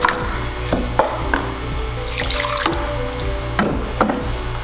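Leftover hydrogen peroxide developer pours and splashes into a container nearby for hair coloring, a steady trickling with intermittent drips and light knocks, no voices.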